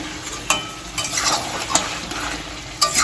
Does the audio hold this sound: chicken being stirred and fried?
yes